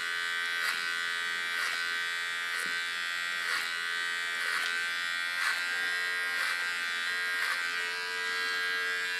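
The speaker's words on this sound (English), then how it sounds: "Going to clean the contour line. Do this with my oval clipper." Oval electric hair clipper trimming the contour line of a pixie haircut, a steady close high buzz with soft regular pulses as the blade passes along the hairline, no talking.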